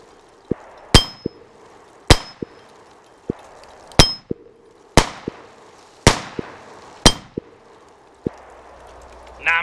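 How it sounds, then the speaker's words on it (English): Repeated gunshots striking an AR500 steel target at a shooting range, each sharp crack followed by a loud metallic ring that decays; about seven hits spaced roughly a second apart, with fainter impacts between and no speech. "I'm going to ring that steel here."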